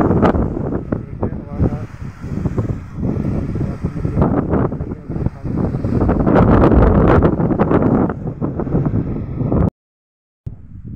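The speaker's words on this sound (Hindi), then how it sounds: "बहुत ही तेज़ हवा है।" Strong mountain wind roars and buffets the microphone in heavy, continuous gusts, with a brief dropout near the end before the rumble returns.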